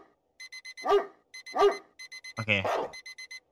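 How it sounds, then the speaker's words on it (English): A phone alarm ringing in short repeated bursts of electronic beeps, close and moderately loud, interrupted by a dog's barks and whimper, with a brief spoken word. "Gosh, where's the alarm? On my phone."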